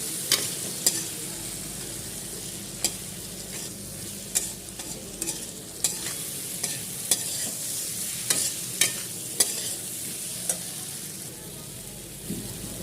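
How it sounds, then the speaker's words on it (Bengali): Potato pieces lightly frying in a pan, a steady soft sizzle beneath repeated sharp scrapes and clinks of a spoon stirring, about a dozen strokes at an uneven pace, close and with no talk. "আলুটা হালকা ভাজা হয়ে গেছে"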